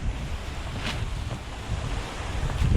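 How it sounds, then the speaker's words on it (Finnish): Waves slap and wash against a boat out on open water during a pike-fishing trip, a continuous close rush mixed with heavy wind buffeting the microphone and no voices. "Siinä sitten heittivät kivat aallot tänne."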